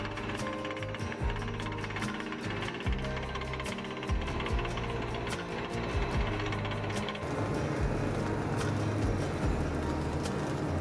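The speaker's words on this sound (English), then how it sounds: "Drilling away, shoveling the muck aside." Rapid, steady pounding of a heavy deep-well drilling rig in the desert, a continuous mechanical hammering with a rumbling low end and no voices.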